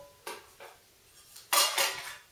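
Nested camping mess kit pans and bowls knock together in a few close metallic clanks, two light hits followed by a louder pair of clattering bangs.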